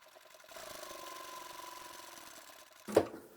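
A sewing machine runs a steady stitching seam along the side of a fabric basket's outer fabric, a quiet mechanical whir that continues for a couple of seconds before ending with a short sharp clack.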